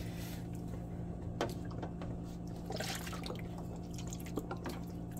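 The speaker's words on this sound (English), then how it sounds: "On mixing that extreme blue and put the Caribbean in." Dripping and trickling water as Caribbean blue yarn dye is poured and stirred into a dye bath, a steady close, low wash with occasional sharp drips and clinks, no voices.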